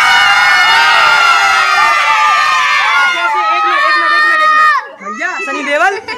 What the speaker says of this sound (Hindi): बच्चे चिल्ला के बताओ कितने खुश हो।